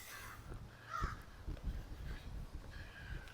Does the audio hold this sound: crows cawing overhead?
yes